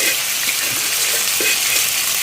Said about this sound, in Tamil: இது எண்ணெயில் போட்டு பொரிப்போமா?